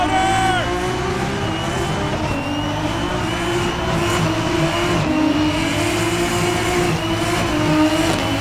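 A VL Turbo car doing a tire burnout on the main straight at an LZ World Tour event in Montreal, Canada: a loud, sustained engine roar with a steady, slightly wavering drone that holds throughout, close and continuous.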